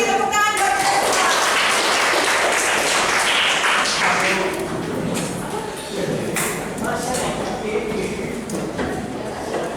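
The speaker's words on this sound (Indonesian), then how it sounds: "Tepuk tangan buat semua." A classroom of students claps in a lively burst of many hands, loud and close, with a teacher's voice speaking over it as the applause gradually dies down.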